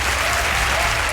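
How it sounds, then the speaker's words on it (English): Dense, steady applause from a large crowd at the close of a Democratic presidential debate in Iowa, loud and unbroken with no voices standing out. "With applause still ringing at the end of the Democratic debate in Iowa last night"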